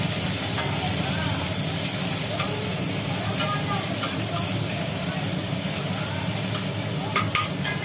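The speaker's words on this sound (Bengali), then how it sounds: "একটুখানি নাড়া করে নিই" Onions stirred in a hot pan while cooking tok dal, a steady sizzle and frying hiss running throughout with light stirring scrapes, close and fairly loud, with some faint talk in the background.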